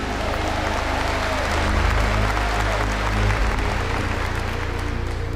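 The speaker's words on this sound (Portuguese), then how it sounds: "Dá uma salva de palmas para o nosso Deus, gente." A church congregation applauds for God in a dense, continuous round of clapping over a low, steady hum from the hall.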